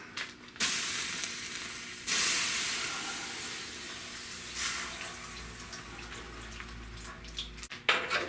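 A loud, steady hiss and sizzle of water poured onto hot metal on a car's radiator core support, surging in bursts as more is poured, with no voices.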